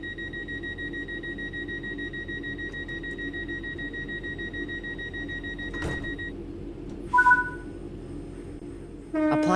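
In Train Sim World 4, a passenger train's doors close over the steady hum of the idling train. Sustained warning tones sound, followed by a clunk and a pair of short beeps near the end.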